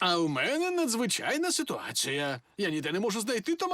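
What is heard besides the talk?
No distinct noise like a dog, phone or traffic.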